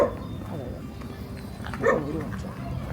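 A dog barks in a medieval village in south-western France, a few short yips heard faintly amid outdoor street ambience, with people talking over it.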